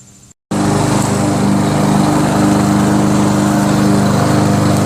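A Toro SR4 Super Recycler rear-wheel-drive self-propelled lawn mower with a Loncin clone engine starts running after a brief pause, then holds a loud, steady close-up engine drone.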